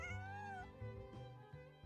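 A cat in Genshin Impact gives a long, drawn-out meow followed by shorter mewing calls, close and clear with no talk over it.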